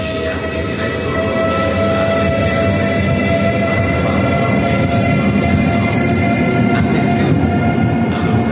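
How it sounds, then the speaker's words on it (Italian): A Trenitalia regional express train from Venezia Santa Lucia runs at Venezia Mestre station, a loud, steady rumble of wheels and motors with a faint sustained tone throughout. "il treno regionale veloce di Trenitalia proveniente da Venezia Santa Lucia"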